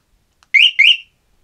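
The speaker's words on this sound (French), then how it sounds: "petit test avec la télécommande de l'alarme" A Kaabo Mantis GT electric scooter's alarm set off by its remote gives two short, loud, shrill electronic chirps in quick succession against silence.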